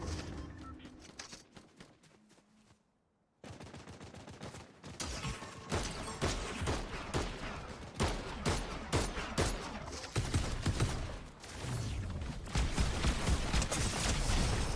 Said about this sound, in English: let's start shooting these bot players